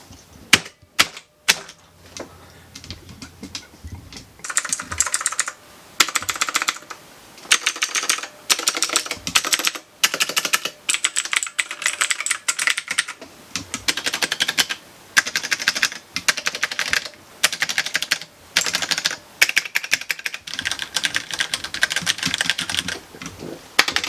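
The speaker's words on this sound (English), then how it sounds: "it's a decent keyboard. Very clicky." Clicky computer keyboard keys pressed one after another in a rapid, steady stream of sharp mechanical clacks, close and loud, with short pauses between bursts.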